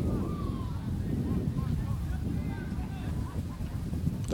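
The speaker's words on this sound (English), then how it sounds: "You can hear it in our field mic again, how windy it is down on the field." Strong wind buffets a field microphone on a football field during a high school sectional final game, a constant loud low rumble with gusty flutter.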